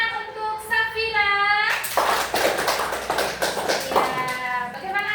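A classroom of children bursts into sustained applause for a classmate named Safira after a teacher's spoken lead-in, the dense clapping lasting about three seconds before fading as the voice returns.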